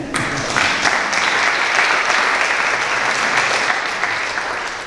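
Steady, full applause from an audience at a reception in a hall, sustained and fairly close for the whole stretch, no voices above it.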